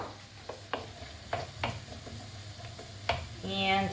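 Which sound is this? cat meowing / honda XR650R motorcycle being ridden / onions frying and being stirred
onions frying and being stirred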